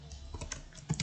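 Keystrokes on a computer keyboard as a pip install command is entered in a terminal, a short run of soft, irregular clicks close to the microphone, with no talking.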